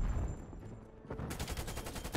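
A grenade launcher fires in Black Ops Cold War, a rapid string of punchy gunfire-like bursts in a loud, busy game mix, rising sharply in its second half.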